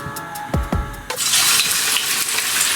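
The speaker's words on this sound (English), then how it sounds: "Now my oil is ready, I'm going to start to fry it." Cassava chips drop into hot oil with a couple of splashy thuds, then a loud, continuous bright sizzle of frying fills the rest, close and with no talking.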